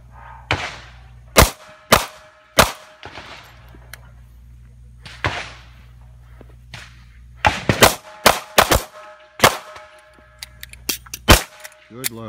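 Firearm shots ring out during a tactical shooting drill with a handgun, loud sharp cracks fired singly and in quick clusters, with pauses between strings as the shooter transitions and reloads.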